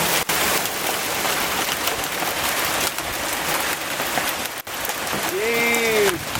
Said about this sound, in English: There's more hail.